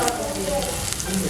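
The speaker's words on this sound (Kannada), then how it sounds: "ನೆಕ್ಸ್ಟು ಆನಿಯನ್ಸ್ ಆ್ಯಡ್ ಮಾಡ್ಕೊಳ್ಳಿ" Onions sizzle in a hot oiled pan just after being added, with continuous crackling and hissing, small spatters and faint stirring scrapes, heard close and alone.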